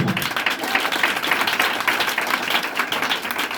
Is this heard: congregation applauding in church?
yes